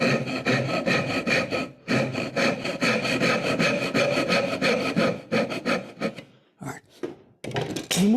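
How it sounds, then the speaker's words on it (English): A hand saw cutting wood with steady rhythmic back-and-forth rasping strokes, close up, pausing briefly a few times before finishing with shorter strokes. "So I'm going to come closer by sawing this way and then straightening up."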